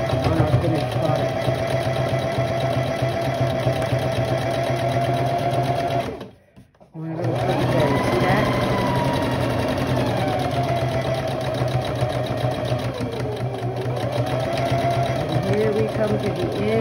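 A sewing machine stitches fabric for a drum bag, running in a steady, close mechanical whir that stops briefly partway through and then resumes, with a low hum beneath it.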